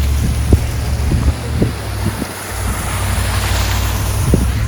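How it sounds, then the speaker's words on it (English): Small waterfalls run during rain in Arches National Park, a steady broadband rush of falling water with scattered low thumps and gusty wind buffeting the microphone, fairly loud and close throughout. "There's so many little waterfalls. Oh, a big one."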